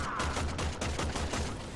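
Rapid gunfire at targets in the Warframe video game on PS4, a quick run of evenly spaced shots filling the short stretch, loud and close.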